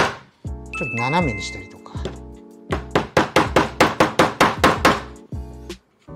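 Rapid series of about ten sharp, even knocks as wood is struck to leave screw marks for an aged vintage finish on a home-centre-lumber desk, preceded by talk that continues faintly around the hits.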